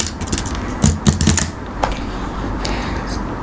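Fingers tap keys on a keyboard in a quick burst of close, crisp clicks, then a few scattered presses before a quiet hum takes over.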